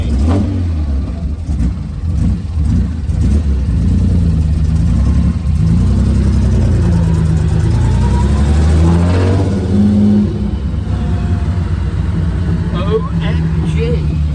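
Throaty engine of a Jaguar E-Type 2+2 revving close by, rising and falling in several blips over a steady idle, with people talking and exclaiming over it for much of the time.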